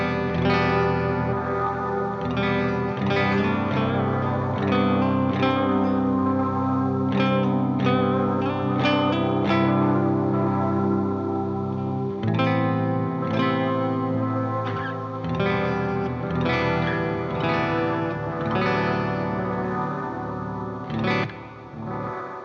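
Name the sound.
guitar through reverb and delay pedals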